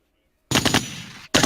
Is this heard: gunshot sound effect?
yes